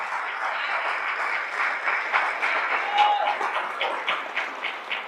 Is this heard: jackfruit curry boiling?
no